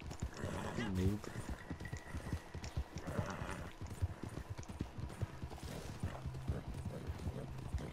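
A horse's hooves clip-clop at a fast gallop in a video game, with rhythmic hoof beats running under player chatter and a brief whinny.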